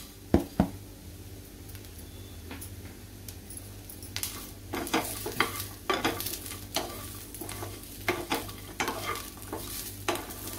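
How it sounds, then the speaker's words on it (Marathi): Coriander seeds and cumin roasting with browned onion and coconut in a pan, quiet crackling under repeated sharp scrapes and taps of a spatula against the metal, coming in irregular bursts throughout. "आता आपण धणे आणि जिरे घालूया, म्हणजे ते पण चांगले भाजून निघतील याच्यामध्येच"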